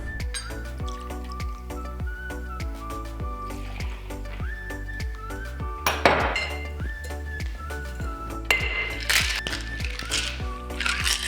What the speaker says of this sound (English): Now we're gonna add ice